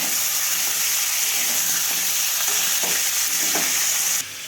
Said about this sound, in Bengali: আমি নাড়াচাড়া করে নেবো হালকা মাংসের রঙটা একটু চেঞ্জ হলে